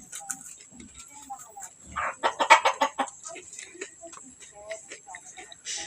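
Chickens cluck in scattered bursts, with a busier flurry of clucking in the middle and a steady high hiss underneath.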